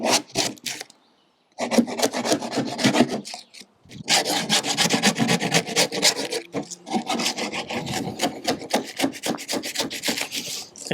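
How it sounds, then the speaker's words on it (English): Old, rain-soaked veneer being scraped off salvaged wooden furniture, close rough scraping strokes in bursts separated by short pauses, loud and gritty with no voices. "I think I might as well just take advantage of it and remove this veneer"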